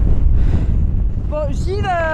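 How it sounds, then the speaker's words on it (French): Strong gusting wind buffets the microphone on a coastal footpath in Brittany, a loud continuous low rumble throughout, with a voice briefly heard over it near the end. "Le vent, ça nous arrive à nous déporter du chemin"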